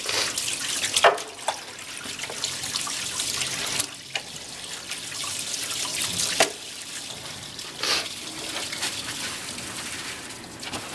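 Cold tap water runs steadily into a sink, splashing and trickling as A-TACS camouflage items are rinsed under it, with occasional louder splashes and bumps.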